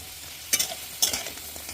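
Potatoes frying in a pan and being stirred, a soft steady sizzle broken by two brief scraping stirs, fairly quiet and close.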